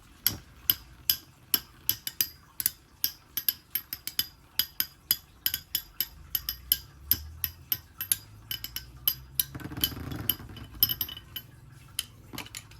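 Beyblade tops clack and scrape in a plastic BB-10 repro stadium, making a steady run of sharp, close impacts about twice a second, with a low rumbling swirl partway through and no voices.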